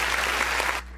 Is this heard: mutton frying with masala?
no